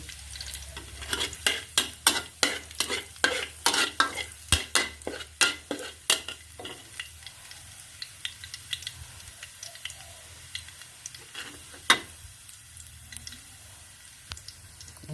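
Garlic frying in a pan before clams are added, stirred with a run of quick, sharp scraping strokes at first that thin out into scattered scrapes over a faint sizzle, with one loud clank near the end.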